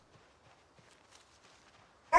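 A pet dog barks indoors in one sudden, loud burst at the very end, after near-silence with faint background game sounds.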